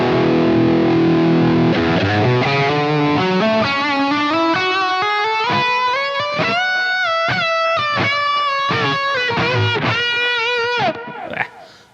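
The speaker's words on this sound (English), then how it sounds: "when I step on the foot switch, it'll do that 12 dB boost." A loud, distorted electric guitar with a 12 dB foot-switch boost plays a sustained chord, then a rising run of bright notes and bends, ending abruptly.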